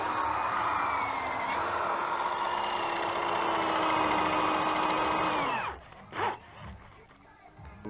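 A drill and angle grinder whine steadily on a metal exhaust manifold for several seconds, pitch dipping once, then spin down and stop, followed by a few brief scraping bursts.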